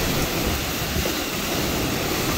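Hurricane Ian's wind roars steadily outside in North Port, a loud, dense rushing wash of storm noise with trees swaying, unbroken and without voices.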